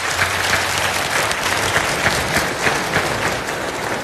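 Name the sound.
audience applause at award ceremony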